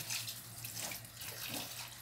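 Tap water runs steadily into a pan while rinsing in a kitchen, a soft continuous splashing hiss heard alone at close range.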